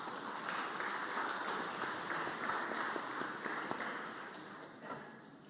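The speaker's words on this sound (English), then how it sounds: "Let's give him another round of applause." Applause rings out on the floor of the Mississippi Senate in honor of a visiting musician, a moderately distant, roomy patter of clapping that holds steady and then gradually thins and fades toward the end.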